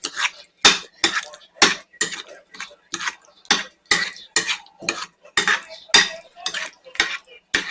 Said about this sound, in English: Just dump that all in. Mix it up real good.